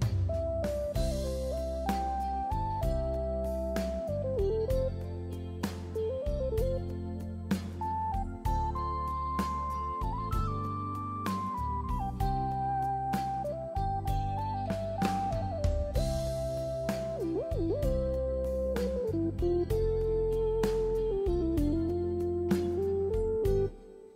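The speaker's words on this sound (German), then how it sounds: "Rechts 3 offeriert uns wieder einen synthetischen Ton." A synthesizer tone played on a Yamaha Genos keyboard, steady sustained notes shifting in pitch over a pulsing low bass, with an echoing, lingering quality throughout.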